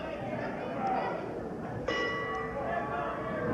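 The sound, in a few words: wrestling ring bell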